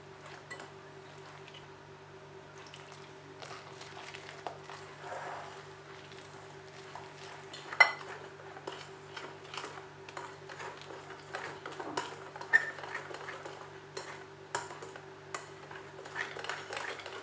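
Biscuit mango cake batter being stirred in a bowl as milk is added, with faint, close clinks and scrapes of a spoon against the bowl in an irregular rhythm over a low steady hum.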